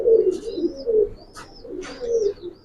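Giribaz pigeons of an old breed coo softly at close range, low throaty murmurs rolling in a few uneven bursts, with faint higher chirps over the top.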